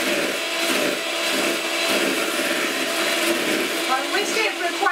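An electric whisk beats eggs for a gluten-free lemon sponge cake with a loud, continuous whirring drone close by. A voice may be faintly present under the motor noise.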